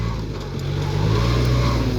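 A farm tractor runs under steady load while pushing earth, its low diesel engine drone continuous and close, rising slightly in intensity partway through with no speech.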